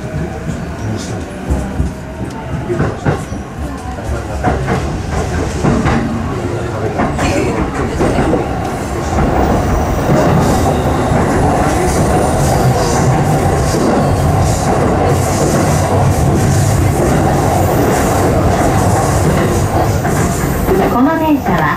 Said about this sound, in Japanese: この電車は京浜東北線快速蒲田行きです。